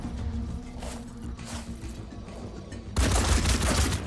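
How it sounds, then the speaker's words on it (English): Gunfire erupts in the Phoenix Point video game, a steady dense fusillade under game ambience that jumps to a loud, sustained volley of shots and booms for the final second. "Apparently these guys have return fire."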